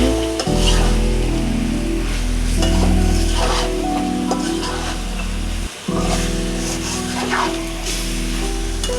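Spiced chicken stir-fries in a hot pan with a steady loud sizzle, and a spoon scrapes and stirs through it over the whole stretch, close up with no talking.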